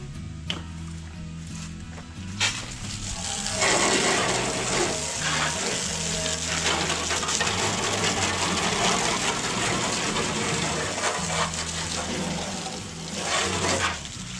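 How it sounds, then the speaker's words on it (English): Steady rushing spray of water from a hose, loud and continuous after a short start, with a low hum underneath. "I got a hose. Let's see what we can do. Water's on!"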